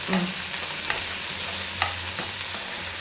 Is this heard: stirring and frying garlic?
yes